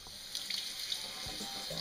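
Tap water runs steadily into a kitchen sink while dandelion greens are rinsed, a soft continuous hiss with faint splashes, fairly quiet throughout.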